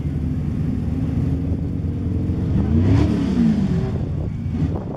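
Classic cars at a French Lick Concours show rev their engines outdoors, a dense low rumble that swells into a sharp throttle blip near the middle and then settles back to idle, loud and close with faint crowd noise.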